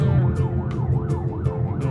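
A rescue vehicle or ambulance siren on a Thai road wails up and down in fast, repeating sweeps. It sounds loud and close and plays steadily over low traffic rumble, with no talking.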